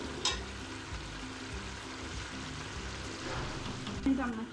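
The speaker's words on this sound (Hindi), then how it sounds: "ये मसाला जो है टमाटर हमारे गल चुके हैं, तो ये मसाला हम भूनने लगे हैं" Tomato masala frying (bhuna) in a pan for beef keema biryani, a steady low crackling sizzle with faint stirring scrapes throughout.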